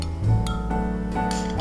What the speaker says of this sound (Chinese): 一定要充分的搅拌，多搅拌一会儿，不然就容易结块